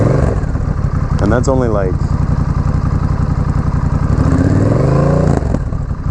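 A Honda Rebel 1100 motorcycle with no muffler idles and revs hard to around 4,000 RPM, a loud, continuous engine roar with rising and falling throttle blips while people talk over it.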